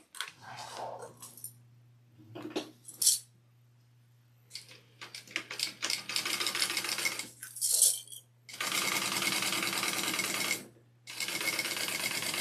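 A sewing machine bastes fabric onto a piece of a Brunella bag, running in several short bursts and two longer steady runs over a low motor hum, with small clinks between stitching passes.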